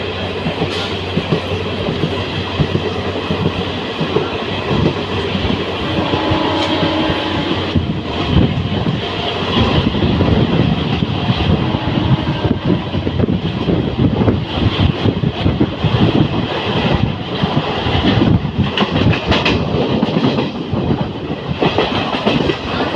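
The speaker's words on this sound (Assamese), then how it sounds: "পাহাৰৰ মাজে মাজে ট্ৰেইনখন আহি থাকে" A train between Jagiroad and Guwahati in Assam rumbles past close by through hills, its wheels clattering in a rhythmic clickety-clack over the rails, with wind buffeting the microphone.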